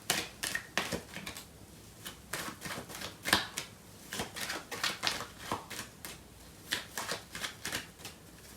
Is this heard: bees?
no